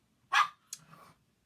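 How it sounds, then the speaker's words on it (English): A pet dog barking indoors during a live stream, a sharp close bark followed by a softer second yip, both brief and alone. "Sorry, that's my dogs, and every time I'm live they bark."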